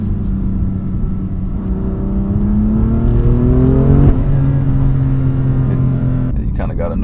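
A BMW M2 accelerates hard through tight twisty turns, its engine note climbing steadily in pitch, easing briefly, then building again, loud and close from inside the car.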